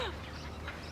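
A single short sneeze bursts out close by in an indoor scene from a soap opera, quick and sharp, then fades into quiet room tone.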